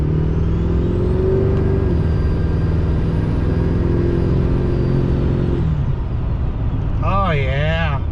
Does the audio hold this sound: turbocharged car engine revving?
yes